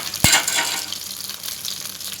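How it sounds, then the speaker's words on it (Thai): Thai red curry paste dropped into a little hot oil in a pan for a chicken, bamboo shoot and pumpkin curry: a sudden thud, then a loud hissing sizzle that fades to a steady fry. "ใส่น้ำมันเล็กน้อยค่ะในกระทะ แล้วก็ตามด้วยน้ำพริกแกงเผ็ดเลยนะคะ"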